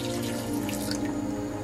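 Water runs steadily into a glass in a kitchen, a continuous close splashing stream at low level with no talk.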